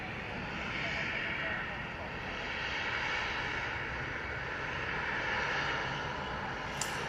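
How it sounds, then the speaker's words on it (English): A Boeing 737-800 jet departs Manchester Airport with a steady, broad engine roar that holds fairly level and moderately loud throughout, while a voice talks over it. "that 737-800 is off to split"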